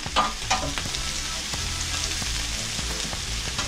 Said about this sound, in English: Move around your onions and peppers and